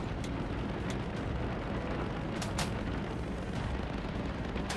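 Anti-aircraft flak guns pound away around a bomber in Bomber Crew, a steady rumbling roar with a few sharp distant cracks popping through it, fairly faint and continuous.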